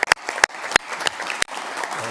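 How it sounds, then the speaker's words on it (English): Scattered clapping at a city council meeting, a few sharp individual claps standing out over a thin, brief patter from a small room audience. "we'll give you a round of applause as well"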